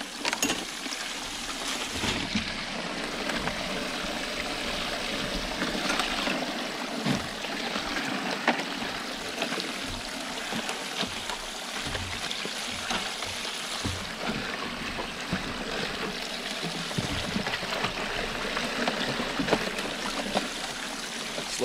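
Steady rushing and splashing water washes through a gold highbanker loaded with gravel and root material, continuous and close, with no talking.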